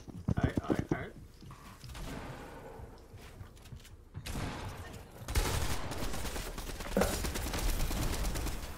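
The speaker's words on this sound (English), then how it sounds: "Nice shots, Jack. Somebody wants some shots" Rapid bursts of gunfire crackle in a video game, sharp clustered shots early on, then heavier sustained firing and booms toward the end, fairly loud, with people talking over the action.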